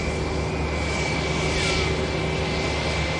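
An EasyJet Airbus A320 jet airliner taking off at Manchester Airport, a steady, broad engine roar with a faint rising whine, continuous and moderately distant, without talk.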